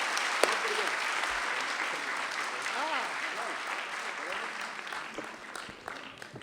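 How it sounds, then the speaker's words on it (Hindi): Loud applause from the audience at a Hindi comic poetry gathering welcoming poet Sudeep Bhola, steady clapping that slowly tapers off, with a voice briefly heard through it. "तो एक बार दोनों हाथ उठाकर जोरदार तालियां"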